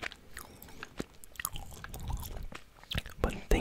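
Gum chewing close to the mic, with soft wet smacks and clicky mouth sounds scattered unevenly, quiet under a low background hum.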